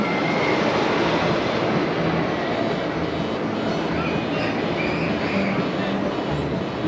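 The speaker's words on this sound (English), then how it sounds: "And the blue train on Millennium Force going by." Blue Millennium Force roller coaster train at Cedar Point rumbling past as a steady, loud roar of track noise and wind that holds throughout, with no talk.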